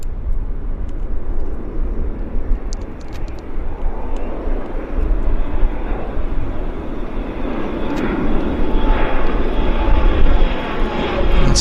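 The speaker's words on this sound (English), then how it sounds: "You can hear the engine spooling up" An Air India airliner at Vancouver International Airport spools up its engines on the takeoff roll, giving a loud, continuous jet roar that builds steadily in intensity with no talk over it.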